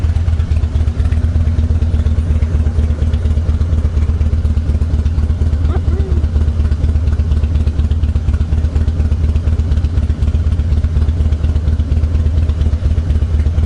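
A motorcycle engine runs steadily and loud close by, a low rumbling drone with faint clatter, held constant with no clear revving.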